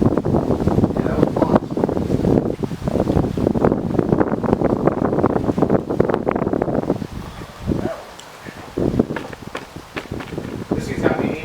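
Steady wind gusting across an outdoor golf course, a constant rough rush with rustling that dips briefly near the end, while people talk throughout.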